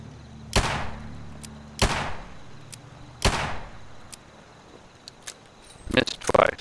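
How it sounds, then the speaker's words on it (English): Weapon gunshots in Fallout 4 around Sanctuary: three loud, evenly spaced shots with ringing decays, then a flurry of quicker clicks and rattles near the end, with a character voice speaking between them. "Is this really the best place to be firing your weapon?"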